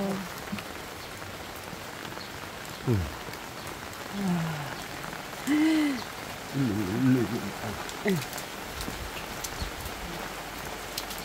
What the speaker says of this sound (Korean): 오, 비가 점점 거세지고 있어요.